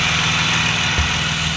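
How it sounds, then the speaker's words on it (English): BMW E36 M3 engine idling inside a garage, fitted with an M50 intake manifold swap: a steady low, rumbling idle with even pulsing throughout and a brief thump near the middle, no voices. "the car is just idling in my garage"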